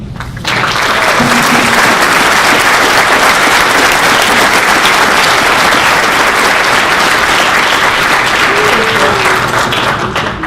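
A banquet audience breaks into loud, sustained applause at a Hall of Fame induction, a dense wash of clapping that swells quickly and holds steady throughout with no talking.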